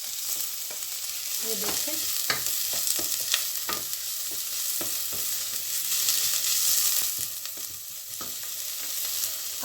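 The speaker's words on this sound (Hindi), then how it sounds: "तकरीबन 1 मिनट हम इनको भूनेंगे।" Chopped onions frying in hot oil in a pan, with steady sizzling broken up by clinks and scrapes of a spoon stirring. A voice says a couple of words over it.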